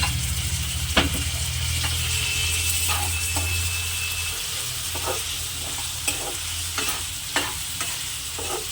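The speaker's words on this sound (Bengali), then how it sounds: "এখন একটু জল দিয়ে ভালো করে মশলাটা নিয়ে কষিয়ে নেব।" A spice paste of masala with Kashmiri chili powder fries in a pan with a little water, giving a steady sizzle. A spatula scrapes and taps against the pan in repeated strokes.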